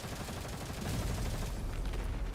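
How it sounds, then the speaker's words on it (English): Bursts of gunfire and a charge exploding crackle together in a chaotic battle scene, a dense continuous rattle with low booming weight, moderately loud and without talk. "Void Mastina's gunfire, the explosion of the charge"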